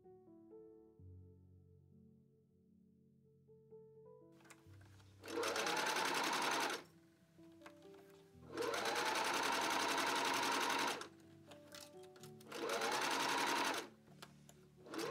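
A sewing machine stitches a vintage ghost costume for the stage in three loud, steady bursts of a few seconds each, separated by quieter pauses with faint background sound.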